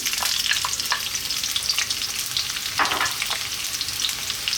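Onion dropped into hot oil with whole dried chilies, over fairly lively heat, gives a loud, dense, continuous sizzle up close, with a brief burst of extra spitting partway through and no voices.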